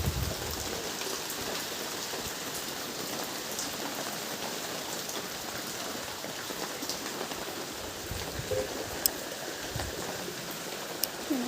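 Rain pours steadily all around a rural house and soaks the yard, making a dense, continuous hiss of falling water with a few brief drips and taps near the end. No voices are heard.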